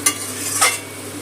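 A spoon stirs a fish head with taro stolons and water in a pan, giving two quick scraping, sloshing strokes close by against a soft background hiss.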